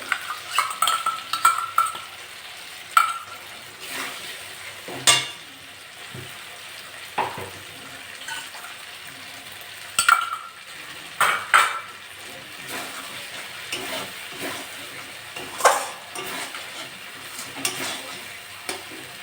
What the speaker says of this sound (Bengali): দশ বারোটা কাজু বাদাম আর পোস্ত বেটে নিয়েছি এটা দিয়ে দেবো